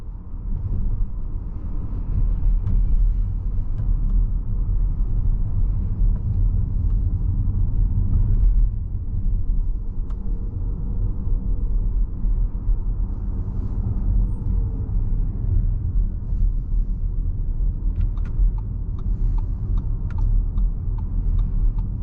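A 2024 Audi Q8 e-tron electric SUV cruises smoothly, its cabin filled with a steady low road rumble and tire hum, with no engine note and no talking.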